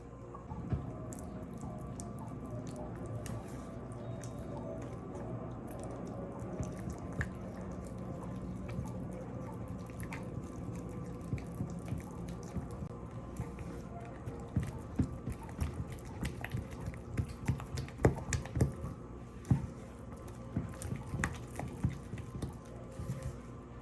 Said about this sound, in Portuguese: agora vamos adicionar a água. E mexer.